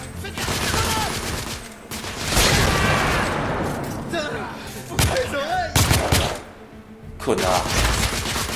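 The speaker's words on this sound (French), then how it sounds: "J'essuie des tirs de suppression" Suppressive gunfire in the video game The Order: 1886, loud repeated bursts of shots and impacts with booms, mixed with game music and a voice speaking over the fighting.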